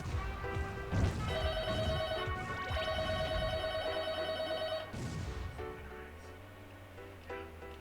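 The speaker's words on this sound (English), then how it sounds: "Is that a phone?" Telephone ringing in the PlayStation car-combat game Twisted Metal 4 with a fan mod, a bright repeating ring of two long bursts over game music and crashes, fading as a low engine hum takes over.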